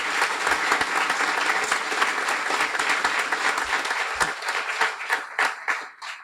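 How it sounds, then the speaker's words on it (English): Audience at a Guiding Eyes guide dog graduation bursts into a warm round of applause, dense and sustained clapping from many hands that thins out and fades toward the end. "Warm round of applause, please."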